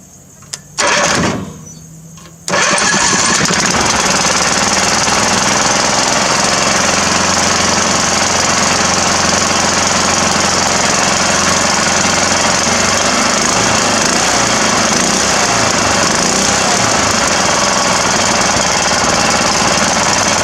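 A homemade boat motor built from a John Deere engine cranks briefly and then fires up, settling into a loud, continuous, rough chattering roar that runs steadily at close range.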